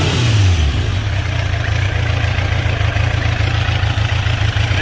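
A barn-find Kawasaki GPZ900R motorcycle engine blips briefly, then quickly settles back to a steady, loud, rumbling idle, heard close with no talking.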